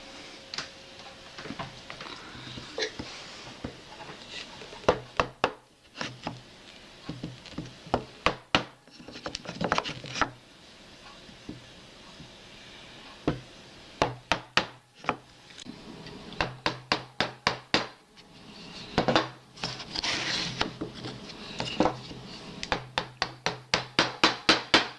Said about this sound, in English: and then I'll chisel it out.